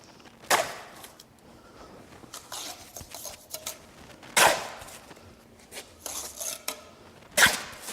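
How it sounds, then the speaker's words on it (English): Trowel scraping and spreading mortar while blocks are laid for a concrete block wall, with a few sharp scrapes and clinks standing out among softer rasping and rubbing, close up and with no talking. "now we're going to spread some mortar and lay these blocks in"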